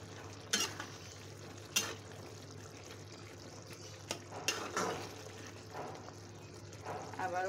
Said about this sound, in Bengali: চলো একটু নেড়ে দিই শাকটার কি অবস্থা